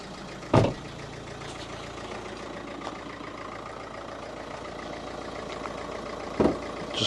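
A Renault 1.5 dCi diesel engine idles in a car bought at auction, a steady low rumble close by, broken by two brief louder knocks or thumps near the start and end.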